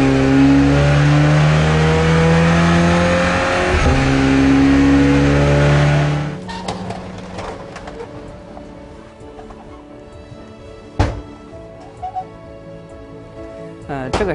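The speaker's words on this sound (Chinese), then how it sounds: "这个实验是发动机拖动的变速箱总承载球实验" A loud engine-driven MG DM21 gearbox runs on a reliability test rig, a steady droning whine with strong harmonic tones for about six seconds, then cutting off to a quieter background with scattered clicks and knocks.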